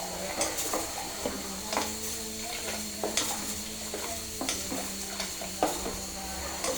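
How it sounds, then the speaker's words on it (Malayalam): Payasam with milk and sugar is stirred in a pot over a low simmering hiss, with repeated spoon scrapes and knocks against the metal at an irregular pace. "പായസം ഇനി നല്ലോണം ഒന്ന് നമുക്ക് ഇളക്കാം"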